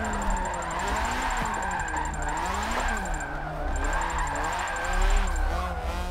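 A drift car in the Forza Motorsport 7 racing game, driven with a Logitech G920 wheel, revs steadily with a rising and falling engine whine and faint tire squeal throughout, loud and continuous with no talk.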